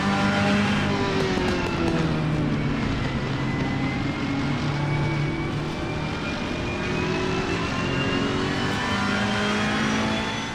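A racing car engine in a video game, heard through a gaming headset, drones loudly and continuously with shifting pitch as it revs and accelerates, no talk over it.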